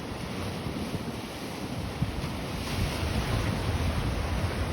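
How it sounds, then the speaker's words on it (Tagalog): Strong sea waves surge and crash steadily along the shore, with constant roaring wind buffeting the microphone throughout, loud and close with no voices. "Ang lakas ng alon, lakas ng hangin."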